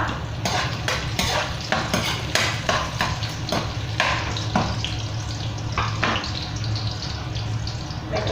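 Garlic and ginger fry in a pan while being stirred, giving a steady close sizzle broken by repeated scraping and clinking strokes of a utensil against the metal, with no talk.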